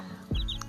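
A large black hen on a farm gives a single short, close cluck.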